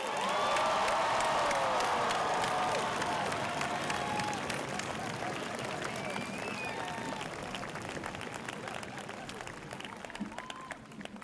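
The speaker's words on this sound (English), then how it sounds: "Let's give all the graduates another warm round of applause" A large graduation crowd at a high school ceremony breaks into loud, sustained applause mixed with cheers and whoops, the roar strongest at the start and easing slightly while voices call out through it.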